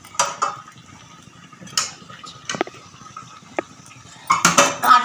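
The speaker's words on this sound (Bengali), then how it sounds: "এটা একটু মাখামাখি করে নিলে খুব সুন্দর একটা গন্ধ বেরোচ্ছে" Marinated chicken for a homestyle Bengali chicken recipe is mixed by hand in a bowl, giving scattered clinks and soft scrapes against the dish, with a busier cluster of clatter near the end.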